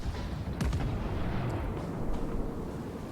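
Warship main guns firing in the naval combat game World of Warships, a tier 4 battleship, with several heavy booming blasts in quick succession over a dense low battle rumble.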